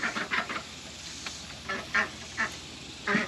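Ducks quacking inside a mobile duck coop on a farm, several close, fairly faint quacks in irregular short bursts over a low background hum.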